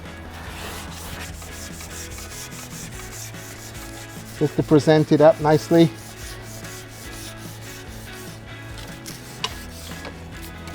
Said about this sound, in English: I'll go over with my sanding sponge this time